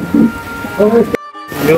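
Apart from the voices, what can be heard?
rain starting to fall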